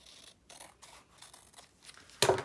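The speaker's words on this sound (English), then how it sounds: "if it hangs down just a little bit, if you got it a little long, trim it off" Scissors snip excess paper from a Valentine's mailbox cover in a few quiet, close cuts, ending in a sharper, louder snip.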